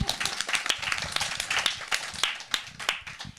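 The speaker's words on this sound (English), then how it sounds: "Oh yeah, let's clap." Symposium audience at a sensory theatre event clapping, a small room's worth of scattered hands giving light, uneven claps for a few seconds.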